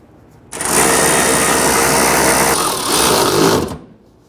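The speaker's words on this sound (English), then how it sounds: "let's go ahead and install the nuts inside the wheel wells" A power tool tightens nuts inside the wheel wells of a 1994-2004 Ford Mustang, giving one loud, steady, close buzzing whir of about three seconds that rises briefly near the end before stopping.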